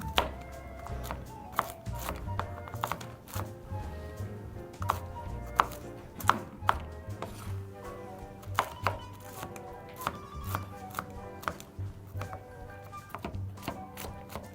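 Knife chopping ingredients on a cutting board for ravioli with sun-dried tomatoes and brown butter walnuts, with steady repeated sharp chops running throughout, close and fairly loud over faint background music.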